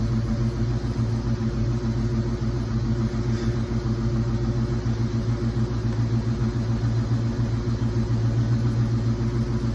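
A 1986 Mustang SSP engine runs at a steady idle after being restarted, its low rumble constant and loud throughout with no talk.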